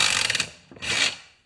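A half-inch ratchet works on handle bolts of a 1968 Homelite XP1020 chainsaw, giving two quick bursts of close, crisp pawl clicking separated by a short pause.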